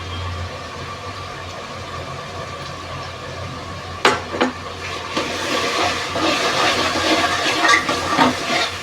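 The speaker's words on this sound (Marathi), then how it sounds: "मसाला चांगला फ्राय करून घेऊ" Onion, turmeric and red chili masala frying in a pan for a prawn and potato gravy, a steady close hiss with crackling sizzle that grows busier and louder after a few seconds, with occasional sharp clinks, no talking.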